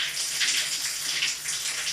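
Hot water runs at low pressure from a bathtub faucet, a steady thin hiss of flow that stays even and fairly quiet throughout, with no talking.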